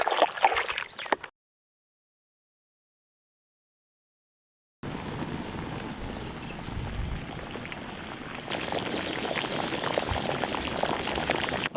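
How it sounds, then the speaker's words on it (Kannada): Chicken curry with masala bubbling in a pot, a dense, steady simmering churn that starts briefly, drops into a few seconds of silence, then returns and carries on close up without any voices. "ಮಸಾಲೆ ಎಲ್ಲ ಚೆನ್ನಾಗಿ ಕುದೀತದೆ"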